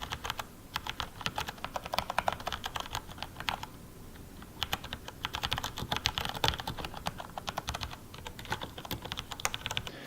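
Bursts of close, crisp typing on a mechanical keyboard fitted with Cherry MX Brown switches, rapid clacking keystrokes in two runs separated by a brief pause, with no voices.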